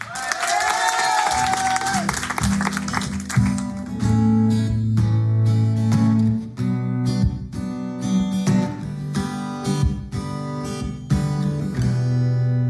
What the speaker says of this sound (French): Applaudissements pour Léa.